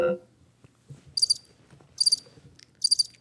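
A cricket chirping sound effect plays as three short, bright trilled bursts at a steady rhythm, separated by near silence, with faint low background murmur.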